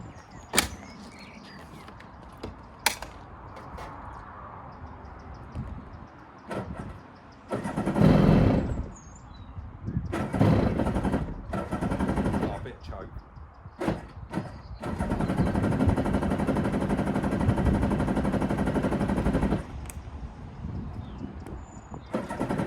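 A SeaDoo XP two-stroke jet ski in good condition cranking with several sharp clicks and short bursts, catching briefly, then firing into a steady, buzzing idle that holds for several seconds before dropping away.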